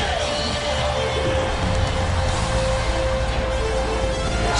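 A packed Quicken Loans Arena crowd roars at a Cleveland Cavaliers NBA game against the Detroit Pistons, a loud, steady wash of cheering with a sustained tone running through it.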